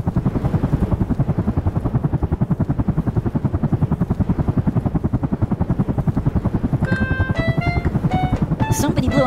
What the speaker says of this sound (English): Police copter, please help!